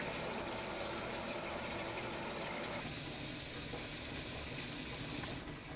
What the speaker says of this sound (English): Then flush water lines for about 1 minute.